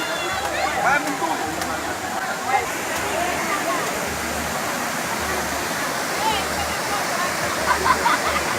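Water from a spout at a Bonito, Pernambuco waterfall pours in a steady broadband rush that holds the whole time, with people talking faintly in the background.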